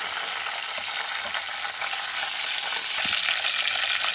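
Green chilies and curry leaves fry in hot oil for a homemade chicken gravy curry, giving a steady, dense sizzle that holds close and fairly loud throughout, with no talking.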